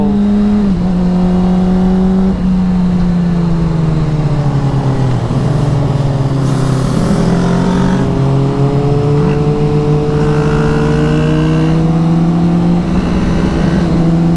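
A Kawasaki Ninja 250 motorcycle accelerating hard past 100 mph, its loud, close, high-revving engine whine climbing in pitch through several gear changes with brief dips between shifts.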